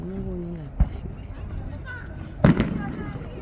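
A fireworks display in Kaizuka, the city's first of the season, gives two sharp bangs, the second a quick double crack, amid quiet crowd chatter and a nearby voice.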